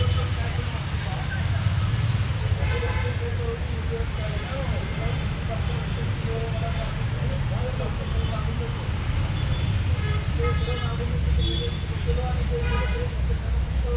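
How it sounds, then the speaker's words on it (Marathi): Busy road traffic rumbles steadily and loudly with vehicles passing, and brief horn toots rise now and then above the constant roadway din. "भरपूर गाड्या आले"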